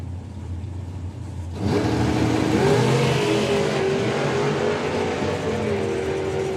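A Ford Cortina drag racing car launches hard with a sudden loud surge of engine roar, then a sustained revving pull that rises in pitch and gradually recedes.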